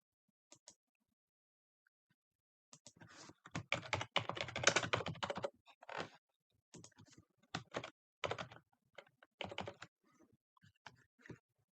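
Computer keyboard typing while entering creditor details into accounting software, quiet clustered bursts of keystrokes with short pauses between them, no voices.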